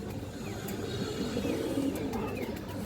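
A pair of Mushaldam pigeons coo in a low, continuous murmur close by, with faint outdoor noise around them and no talking.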